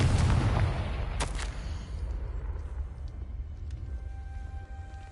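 Confringo fire blast spell cast in Hogwarts Legacy, a loud booming burst at the start that fades into a rumbling decay, with a few faint crackles and a soft tone lingering afterward.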